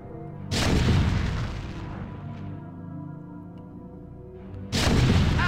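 Siege tank artillery fire in the StarCraft video game: two heavy booming blasts a few seconds apart, each with a long rumbling decay, loud and without speech.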